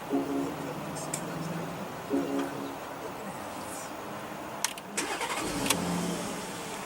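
A 2016 Porsche Cayenne with a 3.6-liter V6 starting and idling at an auto show: a low, steady engine hum with brief clicks and a short rev, beneath a busy crowd murmur and nearby talk.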